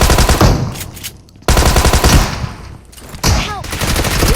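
Rapid bursts of gunfire from a shotgun in the mobile battle-royale game BGMI, loud and close, arriving in two or three clustered volleys separated by brief lulls.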